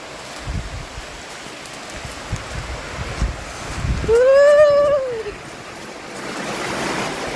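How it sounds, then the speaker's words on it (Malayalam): Steady, heavy rush of rain pouring down in Kerala, a broad hiss that never lets up, with a brief wavering tonal call rising and falling midway. "കട്ട മഴ ദേ മഴ പെയ്യുന്നു"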